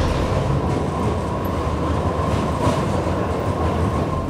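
Yellow tram-train in Karlsruhe running along rails, a steady loud rumble of wheels and motor with a constant whine throughout, close by and uninterrupted, with no voices.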